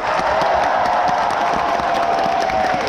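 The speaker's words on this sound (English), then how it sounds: "I want to hear a loud applause and scream" A concert audience at a symphonic show in Sofia's NDK hall bursts into loud, dense applause mixed with screams and whoops, a continuous roar close and sustained throughout.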